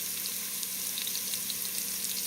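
Ackee frying in a pan for a Jamaican Ital dish gives off a steady, soft hiss of sizzling oil with faint crackles, continuous and even throughout with no talk.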